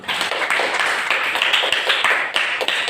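Group applause in a classroom session, a dense run of claps and taps filling the short span at steady loudness with no talk over it.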